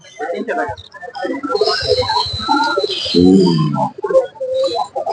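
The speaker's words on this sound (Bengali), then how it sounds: "সব জাতের কবুতর বিক্রি হয়।" Pigeons coo at a busy pigeon market selling many breeds, soft cooing calls close by under people talking.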